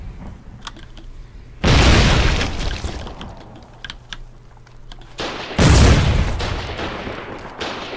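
Two loud, booming grenade blasts go off in the Foxhole war game, the first about a third of the way in and the second near the end, each a broad burst that decays over a second amid low background clatter.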